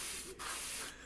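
Short bursts of primer spray onto the grey plastic of an Airfix Bf109 model kit, a close, steady airbrush hiss with a brief break between two passes.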